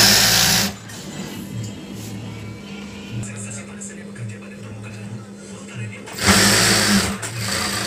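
A sewing machine stitches a ruffle on a foam-layered bed sheet, running in a loud burst at the start and again near the end, with someone talking over the quieter stretch between.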